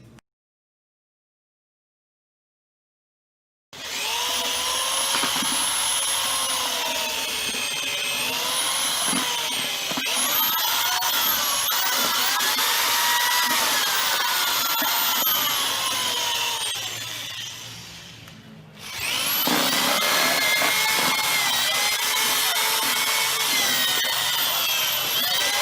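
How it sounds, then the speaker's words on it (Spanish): An electric drill spins a metal rod fitted with a propeller, churning and aerating compost in a school composting project. After a brief silence, a steady, loud whir with grinding and scraping runs throughout, dipping briefly before resuming. "Dicha varilla de metal estaba unida a un taladro."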